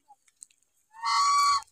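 Ducks at a nursery give a single close, loud nasal honk lasting about half a second, preceded by a few faint clicks.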